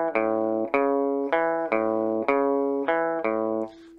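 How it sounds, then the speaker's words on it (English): Guitar playing a rockabilly bass run with a Latin feel, six clean, evenly spaced plucked notes in a bouncing rhythm, close and clear, without talking. "Here are some Rockabilly bass runs."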